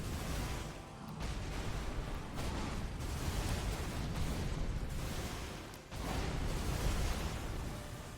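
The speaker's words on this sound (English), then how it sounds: "Of the giant explosion." A giant explosion in the Elden Ring DLC rumbles with dense, roaring booms and bursts that fill the whole stretch, loud and continuous with brief dips.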